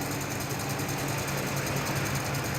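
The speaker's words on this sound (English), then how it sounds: "a giant sewing machine takes a day to stitch the whole lot together" A giant industrial sewing machine stitching a handmade luxury mattress together, producing a steady, dense mechanical whir and rapid vibrating clatter, loud and unbroken throughout.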